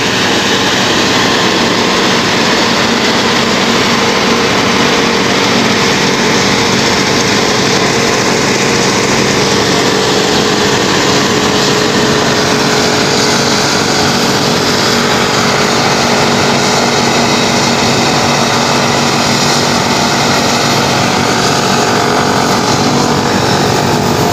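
A New Holland FX28 silage harvester runs in a field in Pakistan, with a tractor trolley following behind. Its engine gives a loud, steady, continuous roar with a broad mechanical whine that holds unbroken throughout.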